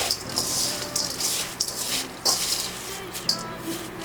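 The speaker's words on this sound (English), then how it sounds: "add enough water to make sure that the soil" Water splashes and trickles onto potting soil being moistened for a plant, a close, continuous wet pouring sound with small gurgles and spurts.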